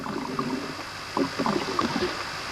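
Divers filming below the surface in clear cave-entrance water, their presence carried as muffled bubbling, gurgling and watery sloshing, steady and close over a short stretch.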